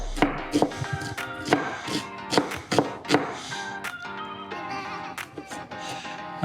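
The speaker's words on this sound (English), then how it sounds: "you're gonna go super skinny, just really fine dicing" Knife finely dicing red onion on a cutting board, a quick irregular series of close, crisp chops and taps with brief pauses, clear and fairly loud with a faint musical background.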